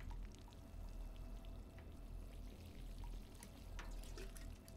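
Plants being watered in a spooky video game, a continuous close pouring splash of water that holds steady throughout with no speech over it.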